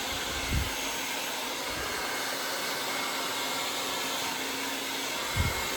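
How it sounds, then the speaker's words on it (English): A hair dryer blows continuously on hair being styled with a brush for volume, a loud, steady rushing roar held throughout, with a couple of brief low thumps near the start and end. "getting a little bit of tension with my brush, and then blow drying it from the other side"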